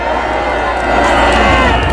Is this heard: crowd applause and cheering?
yes